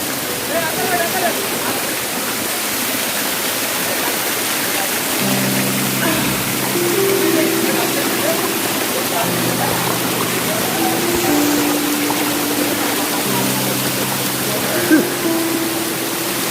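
Constant loud rushing roar of the Raikal waterfall near Warangal filling the scene, with faint voices murmuring underneath at times.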